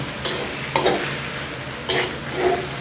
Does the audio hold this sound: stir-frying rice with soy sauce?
yes